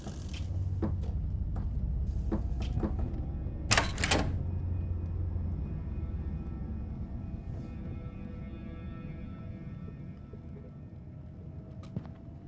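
A door opens in the Fears to Fathom video game with a burst of sharp clicks and knocks early on, then a low hum of electrical noise lingers in a quiet room.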